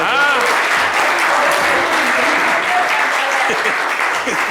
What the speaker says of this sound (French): Applaudissez pour ça.